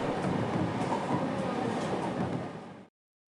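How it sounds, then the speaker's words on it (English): A train in the Higurashi video game rumbles to its final stop, a loud steady mechanical roar with faint rattling that fades and cuts off abruptly near the end. "It seemed the train had reached its final stop."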